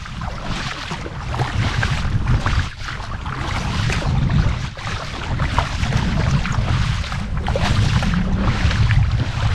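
Kayak paddled along the Cornwall coast, with continuous close wind buffeting and water rushing against the hull, plus steady low rumble and splashy texture throughout, no talk.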